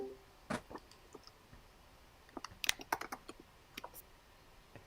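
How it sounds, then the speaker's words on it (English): Computer keyboard typing comes through an unmuted participant's microphone on an online lecture call: scattered quiet key clicks, then a quicker burst of taps and a few final clicks, faint and thin over a low background hum, with no talking. "there's some keyboards happening there too."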